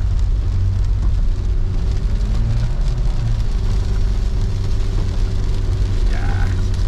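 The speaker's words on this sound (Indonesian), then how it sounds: "ini hujan" Heavy rain drums on a vehicle carrying a group through a storm, a steady loud hiss over a low engine rumble that persists throughout.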